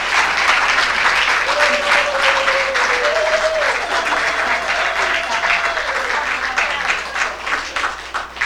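An audience at a peace awards ceremony in New York applauds steadily and loudly for several seconds, a dense wash of clapping with a faint tone running beneath it.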